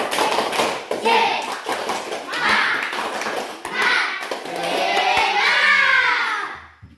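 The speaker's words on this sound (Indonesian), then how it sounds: "sekarang tepuk semangat" Children in a fourth-grade classroom perform a rhythmic spirit clap, a rapid series of sharp hand claps and taps mixed with young voices chanting and shouting along, loud and close.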